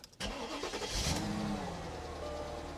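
A Mercedes V8 engine cranks and catches, then settles into a deep, rumbling idle with a slight tick that holds steady close by.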